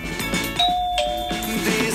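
A doorbell rings with a few clear electronic chime tones in quick succession, close and fairly loud over a quiet room.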